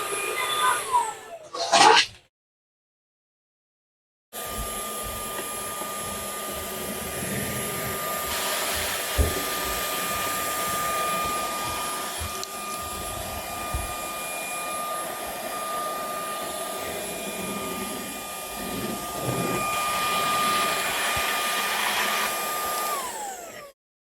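An Erabros EV1 cordless vacuum cleaner whirs steadily with a high whine for about twenty seconds, after a brief burst of noise and a short silence, then winds down.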